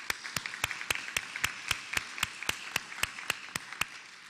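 Audience applause at an all-campus forum at UCSB on the status of women faculty: sharp, evenly spaced claps ring out in a steady rhythm over a faint bed of softer clapping, with no talk.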